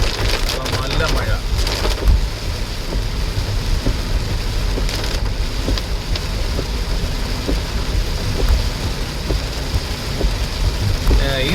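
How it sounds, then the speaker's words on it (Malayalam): Heavy rain pours steadily on a car waiting beside a small roadside shelter in a hilly forest area near Palode, a dense hiss with occasional sharper drips and a faint idling engine under it. "നല്ല മഴ."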